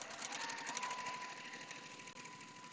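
A sewing machine stitches a Shoo Fly quilt block with a fast, even mechanical whir of needle strokes, steady and close, running alone for the whole stretch.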